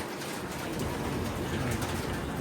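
Caged pigeons coo softly amid a dense, steady rustling background, with no clear speech.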